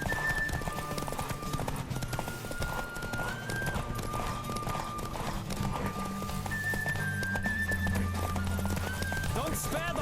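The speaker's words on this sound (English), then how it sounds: "Don't spare the horse!" A horse gallops in The Witcher 3 with a fast, steady clip-clop of hooves close by, backed by music, while voices talk over it.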